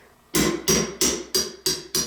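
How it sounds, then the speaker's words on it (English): A hammer strikes a punch to drive a pin out of a KitchenAid stand mixer planetary, six sharp metallic knocks in a steady rhythm, close and clear with no talk. "we would take a hammer and a punch and we would punch out this pin to remove the planetary"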